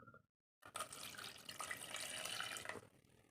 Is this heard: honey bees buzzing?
no